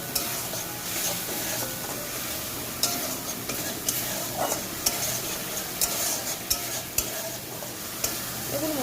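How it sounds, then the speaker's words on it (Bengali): Masala frying in oil with a little water added, stirred with a utensil, giving a continuous close sizzle broken by repeated sharp scraping clicks against the pan. "অল্প পরিমাণে জল দিয়ে মশলাটা আরও ভালো করে কষাবো তেল ছাড়া পর্যন্ত"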